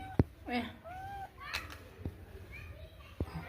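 A cat and her kittens meow in a home, with several short rising and falling cries over a soft background of child-like voices and a few sharp knocks.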